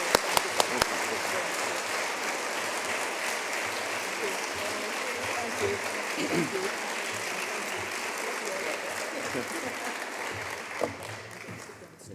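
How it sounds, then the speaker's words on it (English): Teachers at a conference audience clap steadily in a large room, a full, even burst of applause held for about twelve seconds with a few sharp claps standing out near the start. "Can you please just give her another clap?"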